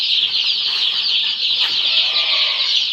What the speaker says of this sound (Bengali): দেখুন আমার মুরগিগুলো কত চঞ্চল।